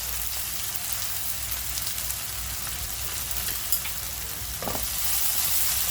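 Chopped onions with salt frying in a pan for a green masala keema, giving a continuous close sizzle and crackle with occasional stirring scrapes.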